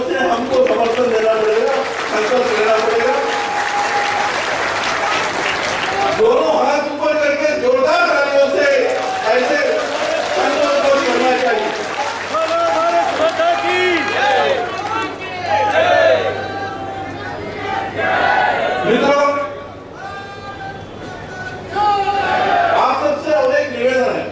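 Conference audience at the 4th National Conference breaking into sustained, loud applause mixed with crowd chatter and hubbub, continuing for over twenty seconds.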